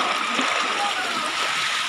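Floodwater surges along a village road toward the highway in Barangay San Pedro, Duero, Bohol, a steady loud rushing and splashing wash that runs without a break.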